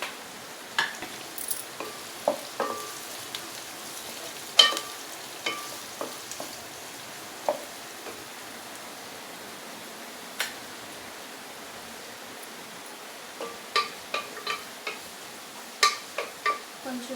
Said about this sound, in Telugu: కొంచెం మగ్గిన తర్వాత అప్పుడు టమాటా వేసి ఫ్రై చేస్తాము